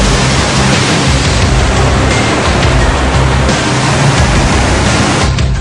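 Floodwater surging through the Srisailam dam, a loud, steady broadband roar of rushing water that holds unbroken and close throughout, with no voices over it.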